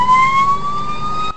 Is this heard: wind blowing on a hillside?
no